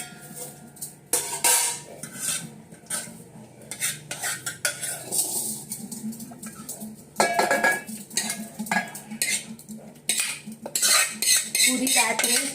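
A spoon scrapes and clinks around a steel pot, emptying out leftover kheer in irregular bursts of metallic scraping and knocking, close up and fairly loud, with no talking.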